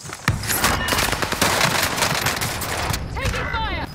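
Call of Duty Warzone gunfire crackles in rapid, dense bursts, close and loud, with players talking over it.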